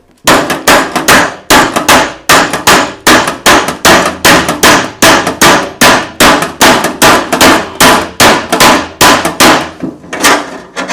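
A hammer strikes a chisel-like blade to cut open an empty metal oil tin, giving about thirty loud, sharp clanging blows in a steady, fast rhythm, close up with no talk.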